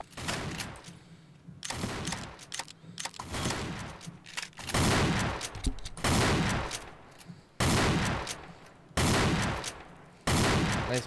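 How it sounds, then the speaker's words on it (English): M1897 trench gun firing in Garry's Mod, with about six loud, sharp shotgun blasts spaced a second or two apart, each trailing into a short reverberant tail. "Next is the M1897 trench gun."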